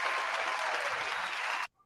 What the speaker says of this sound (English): Gotta give you applause,